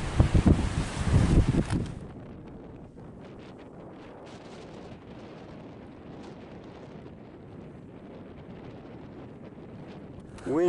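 Wind blows across the shore of a reservoir where a sunken town once stood, first as loud, close buffeting against the microphone for about two seconds, then settling into a fainter, steady rush for the rest.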